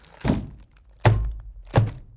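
Knuckles knock three times on the metal chassis of a Cisco Catalyst 9200CX compact network switch, each a close, solid thunk spaced roughly two-thirds of a second apart with no voices.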